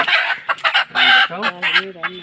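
Chickens cluck and squawk up close in quick, irregular bursts, with a rooster's drawn-out call mixed in.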